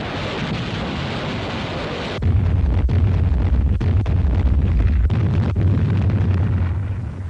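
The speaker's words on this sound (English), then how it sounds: "The assault troops were preceded by a rocket barrage directed against the area behind the" A rocket barrage ahead of a WWII beach landing at Palau: loud, continuous rumbling blasts with repeated sharp detonations that build suddenly after a quieter roar, with no voices.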